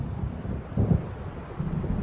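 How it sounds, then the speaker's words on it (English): Rumbling thunder over a lake in the video game Alan Wake Remastered, a low continuous roll with a louder swell near the middle and another toward the end, heard alone without voices. "It seems there's a storm coming."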